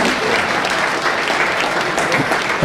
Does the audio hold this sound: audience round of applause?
yes